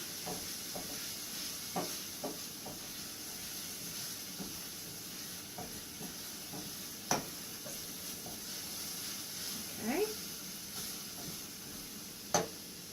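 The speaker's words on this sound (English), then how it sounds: "Releasing the flavors of the garlic into the oil" Garlic frying in hot oil in a pan gives a steady, soft sizzle and hiss throughout, broken by a few faint clicks and scrapes, with no voices.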